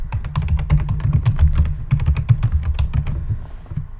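Rapid typing on a computer keyboard, entering a web domain during Java setup: a dense, uneven run of close, crisp key clicks lasting about four seconds with no voices.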